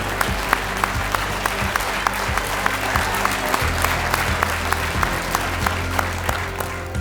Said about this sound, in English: We'd like a chance to finally cheer for you.